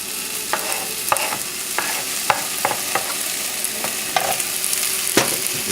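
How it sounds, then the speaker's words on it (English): Peppers, garlic, thyme and bay leaves sweat in a hot pan with a steady close sizzle, punctuated by sharp clicks and scrapes of a spoon stirring against the metal every second or so. "in go the peppers and the garlic and the thyme and the bay leaves. And we'll just sweat that up for a second"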